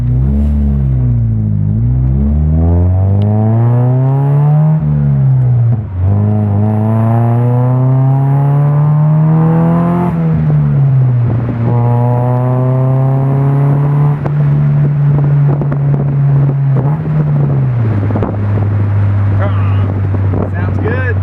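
Car named Sunburn with a freshly fitted custom exhaust on a test drive after leaving the garage, engine note climbing and shifting through gears loudly and continuously, with wind buffeting the microphone and voices speaking over it.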